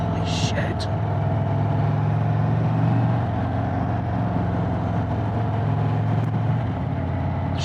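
An Indian Springfield Darkhorse 116 motorcycle runs steadily on the road, its engine a constant low rumble with wind noise, a rider talking over it.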